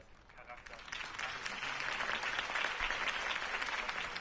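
Large crowd applauding and cheering after a campaign speech for Harvey Dent's election, a dense, steady wash of clapping that swells and stays loud throughout, with voices mixed into the noise.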